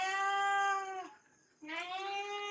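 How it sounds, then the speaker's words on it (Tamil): A house cat at a village home gives two long, loud, drawn-out meows close by, the first falling away before a short pause and the second rising in again. "இது வந்து நம்ம வீட்டு பூனை தாங்க. அப்போக்கு எப்போ நம்ம வீட்டில் ஓடியாந்து ஸ்நாக்ஸ்லாம் எடுத்து சாப்பிடும். இப்போ வந்து கத்திட்டு நிற்கிது."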